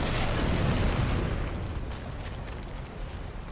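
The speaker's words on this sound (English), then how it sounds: "And throw your bomb onto your ball." A bomb blast in the Darksiders 2 video game makes a broad, rumbling roar that starts loud and slowly fades over several seconds, with no voice heard.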